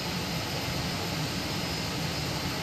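Steady jet engine roar from an Airbus A320 in a flight simulator game, a continuous broadband whine and rumble at constant loudness throughout, with no voices.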